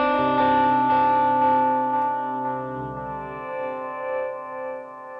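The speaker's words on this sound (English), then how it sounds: "I'm gonna use the glitch pedal." Clean electric guitar played through a glitch pedal set on a reserved setting, sustained chord tones shimmering with layered harmonics and a stuttering, warbling texture that slowly fades, heard alone with no talking.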